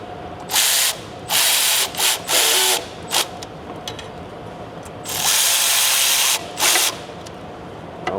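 A power drill fitted with an 8 mm socket on a 6-inch extension tightens bolts on a 6.7 high-output diesel engine. It runs in about six loud, close bursts of whirring, some with ratcheting clicks, separated by short quiet gaps.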